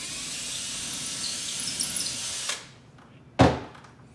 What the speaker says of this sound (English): I'll go ahead, I'll pre-drill this